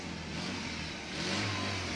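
A vehicle engine revs steadily up close, a continuous mid-pitched drone that swells slightly toward the end, heard alone with no voices.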